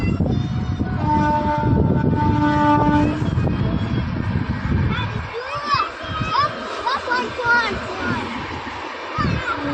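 A train passes close by in rural Gujarat, its loud rumble filling the opening seconds with a sustained horn-like tone, then fading as birdsong and chirps rise over the quieter remainder.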